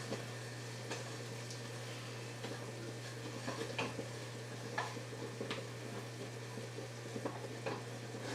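A pot of floral jelly made from locust and wisteria blossoms stirs at a hard rolling boil, with soft scraping and bubbling broken by sharp clicks of the spoon against the pot, steady and close with no talking.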